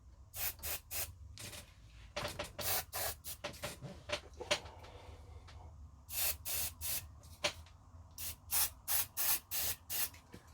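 Head cleaner sprays onto the idler of a Sanyo Betacord VCR in short repeated hissing bursts, close and crisp, in quick clusters separated by brief pauses, with no talk.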